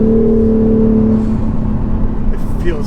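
Cammed manual C6 Corvette Z06 engine heard from inside the car while driving, a loud steady low drone with a strong tonal hum that eases slightly midway, with speech present.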